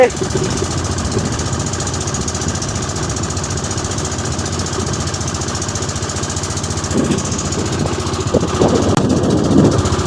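A boat engine drones steadily on a river journey in Bangladesh, a continuous low chugging that holds throughout and swells slightly louder toward the end, with faint voices mixed underneath.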